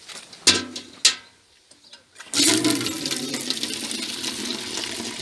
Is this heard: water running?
yes